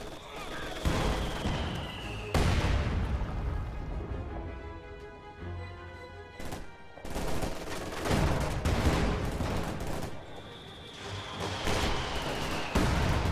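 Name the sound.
MG-42 machine gun firing in a video game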